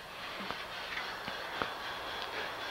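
Several LGB garden-scale model trains, a slower green engine and a faster yellow work engine, run on a single track under automatic yard control, giving a soft continuous rolling hum punctuated by sharp rail-joint clicks at irregular intervals.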